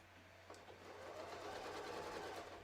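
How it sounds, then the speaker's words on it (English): A sewing machine stitches a seam in fabric, with stitch length set around 2.4. It runs as a steady, even whirring hum that starts abruptly and continues without a break, fairly close and heard alone. "I'm just going to stick the fabric under here, and I'm just going to stitch a seam"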